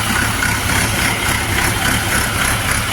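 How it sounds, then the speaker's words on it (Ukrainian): Shifeng 404C tractor engine idling nearby, a steady low rumble with even mechanical chatter and vibration holding constant throughout, no voices over it. "Ось такий тракторець."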